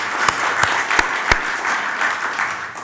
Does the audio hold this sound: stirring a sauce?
no